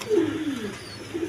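A black Danish pigeon kept with its squabs gives a single close, resonant coo that rises and falls, followed by a softer trailing coo.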